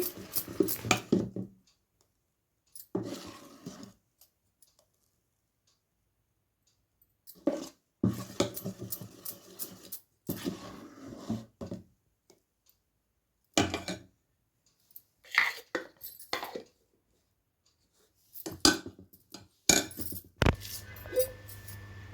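A spoon stirs idli batter mixed with baking soda in a bowl, giving short bursts of clinking and scraping separated by silent pauses, with no talking.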